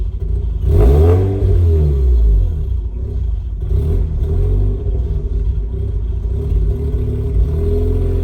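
A 2004 Mazda RX-8 track car with an idle fault makes a loud, close rumble that surges in a brief rev, then sags into a rough, uneven idle that labours and threatens to stall.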